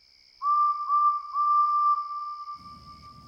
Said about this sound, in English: Then, he heard a familiar whistle.